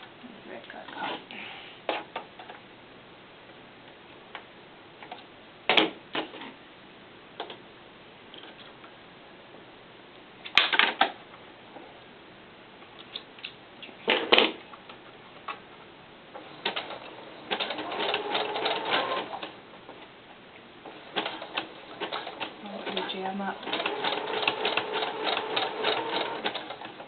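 A sewing machine stitching doll tights runs in short bursts separated by pauses, its rapid ticking stitches growing longer and steadier toward the end, with occasional quiet handling noises.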